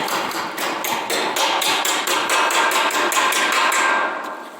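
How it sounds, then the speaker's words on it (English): A hammer strikes a standing seam metal roofing panel to bend it, in about fifteen rapid, evenly spaced metallic taps, bright and close, with no talking. "And then I'll just take my hammer."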